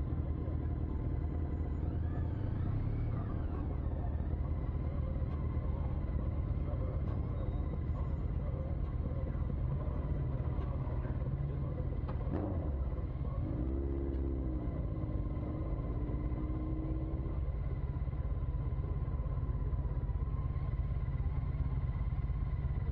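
A Honda CTX 1300 motorcycle on the move, its engine a steady low rumble blended with constant wind roar for the whole stretch, close and unbroken.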